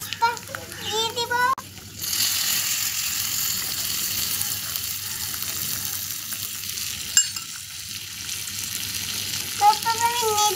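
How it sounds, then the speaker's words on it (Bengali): Pasta with turmeric powder stirred in a frying pan in a home kitchen: a steady loud sizzle with scraping stirring runs through, while someone talks near the start and end. "তারপর আমি নেড়ে নেব।"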